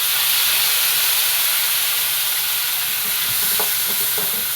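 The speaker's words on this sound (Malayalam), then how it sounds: "അതിലോട്ട് ഒരു വലിയൊരു തക്കാളി കട്ട് ചെയ്തിട്ട് കൊടുക്കാം." Chopped tomato sizzles and fries steadily in a hot pan with cumin, a continuous loud hiss with faint stirring clicks near the end and no talking.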